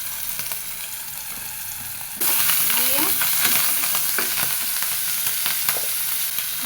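Onion paste hitting hot oil with cumin seeds, a sudden loud sizzle that jumps in and holds steady, with scraping stir strokes through it, close and continuous.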